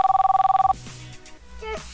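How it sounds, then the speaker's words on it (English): A mobile phone rings with a rapid trilling electronic tone for under a second, then stops, leaving faint room noise and a brief tonal blip. "is your phone ringing?"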